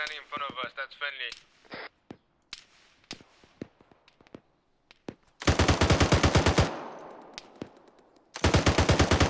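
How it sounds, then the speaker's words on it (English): High-explosive rounds and gunfire in the Arma 3 military video game during a night convoy operation: scattered sharp cracks give way to dense, loud sustained bursts of rapid fire, with a voice heard briefly at the start. "We're gonna have some HE rounds landing in front of us."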